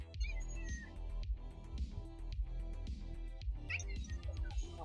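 An agitated domestic cat meows indoors in short, insistent calls over a steady, busy background hum, with no talk present.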